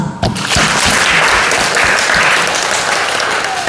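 Church congregation applauding during a Sunday worship service, a loud, dense, steady wash of clapping that swells up within the first moment and holds strongly to the end with no talk over it.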